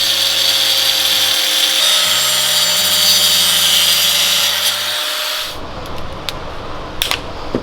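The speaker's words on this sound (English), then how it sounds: "A little bit of trimming, a little bit of sanding, make it clean" Steady, close mechanical whirring of a power tool trimming and sanding an interior panel in a Hellcat Charger, with a droning hum for about five seconds before it stops, leaving faint scrapes.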